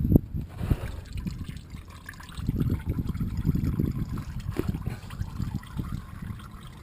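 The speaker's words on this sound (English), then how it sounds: "because it will start dripping on you here" Engine oil from a 2005-2014 Honda Civic draining into a catch can during an oil change, a close, steady liquid trickle with scattered drips and splashes, running continuously throughout.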